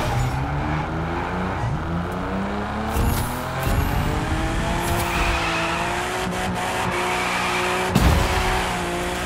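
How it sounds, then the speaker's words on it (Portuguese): A car drifts in The Crew 2 racing game, its tires squealing in long continuous wails over a steady revving engine, with the pitch sweeping as the slide continues and a brief louder bump near the end. "Um tanto esquisito, velho, fazer drift com o carro aqui no jogo."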